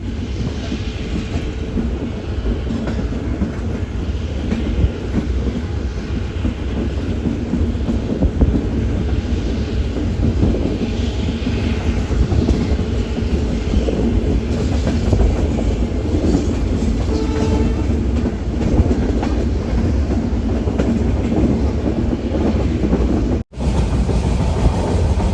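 Goa Express from Vasco to Hazrat Nizamuddin, hauled by a WDP 4D diesel locomotive, rolling along with a steady loud rumble, rhythmic clickety-clack and wind buffeting the microphone, broken by a brief dropout near the end.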